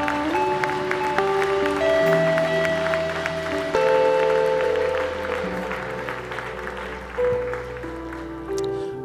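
A church congregation applauds during a worship service, steady clapping filling the room beneath sustained keyboard or organ chords that continue throughout.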